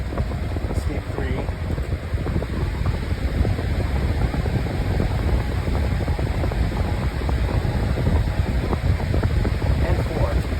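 A Lasko Windstorm pedestal fan running at speed 3, a steady loud roaring rush of air buffeting the microphone without pause.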